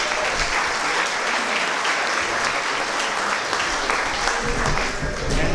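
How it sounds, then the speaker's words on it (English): Dense, continuous applause from an audience fills a theatre's underground lounge at an honoring event, steady and close throughout with no pauses. "So let's give them a round of applause, please."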